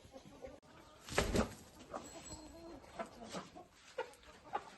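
Faint, scattered clucks from a tall, colorful chicken, a few soft calls spaced across a quiet background, with a brief thump near the start.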